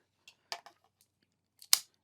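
Scissors cut through material for a cosplay staff in a quiet room, giving a few short, crisp snips with one sharper, louder cut near the end.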